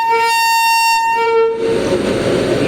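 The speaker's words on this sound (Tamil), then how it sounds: "நைஸ் ஆரன்." A WAP7 electric locomotive hauling the Tamilnadu Superfast Express sounds a loud, sustained horn blast with a steady tone, then the tone cuts off and the heavy rumble of the passing train takes over.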